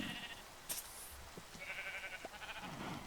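A few faint sheep bleats from the video game modpack All The Mods 3 sound amid soft background noise, brief and scattered rather than loud.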